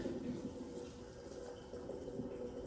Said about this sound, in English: dump all my hot water,